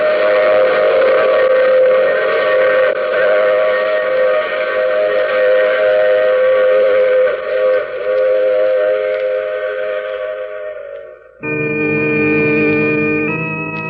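A train in an old-time radio drama sound effect gives a long, loud, steady whistle over a running rumble. The tone cuts off abruptly and is followed by a second, differently pitched whistle blast.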